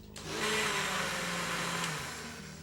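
A kitchen blender whirs loudly and steadily for a couple of seconds, remixing a fava bean cream seasoned with salt and pepper, its motor pitch dropping slightly as it winds down.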